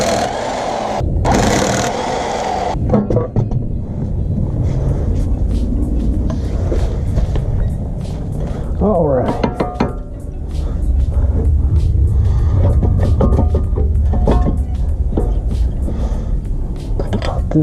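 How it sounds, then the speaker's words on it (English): Grinding rumble from a badly worn wheel bearing on a Dodge Charger, a steady low drone running continuously for the length of the clip with metallic undertones, loud and close, mixed with workshop noises. "That is a very bad wheel bearing."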